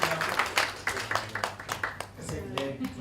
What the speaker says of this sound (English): So let's clap.